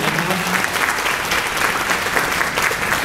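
An audience applauds a performer being introduced at a Thai event presenting singers and crew: dense, steady clapping that fills the whole stretch at a fairly close, loud level.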